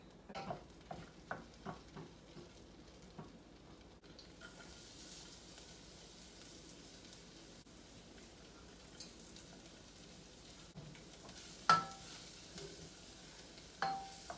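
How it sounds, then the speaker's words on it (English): Soft sizzling of food frying in a pan, with a few sharp clicks and stirring knocks early on, then a quiet steady crackle broken by occasional utensil clatters. "It's starting to fry."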